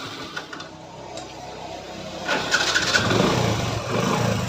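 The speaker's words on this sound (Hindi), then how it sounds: "तो ये बाइक स्टार्ट हो चुकी है" A Hero Passion XPro 110 motorcycle engine, freshly refitted, cranks and catches, then settles into a steady, close idle rumble with a faint rattling texture.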